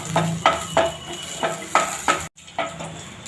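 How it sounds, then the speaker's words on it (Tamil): Ginger and garlic sauté in a pan while a utensil stirs in repeated scraping strokes over a soft sizzle, close and clear, with a brief pause near the end and no talking. "அப்புறம் ஒரு 3 பல் பூண்டு இதை வதக்கணும்"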